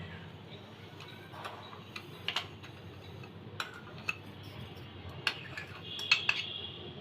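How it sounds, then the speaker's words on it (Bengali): Grated raw mango is stirred together with sugar in a bowl, with a spoon giving sparse, light clinks and scrapes against the bowl, quiet and close, with short gaps between them. "এখন আমের সাথে চিনিগুলি মিশিয়ে নিব"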